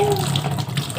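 A running tap gushes steadily as bananas are washed under it, a short close splash of water hitting fruit and basin.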